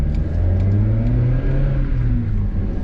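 An NB Mazda Miata engine revs steadily at 4,000 RPM, a continuous loud rumbling hum with slight rises and falls, no voices.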